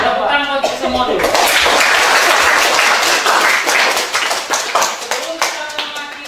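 Students in a classroom burst into loud, fast applause that holds for several seconds, then thins out into scattered claps.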